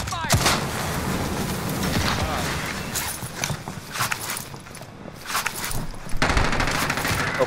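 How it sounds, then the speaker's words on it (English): Video game firefight with dense bursts of automatic gunfire and heavy shots cracking repeatedly, loud and continuous, with short pauses and occasional footsteps between volleys. "Taking direct fire."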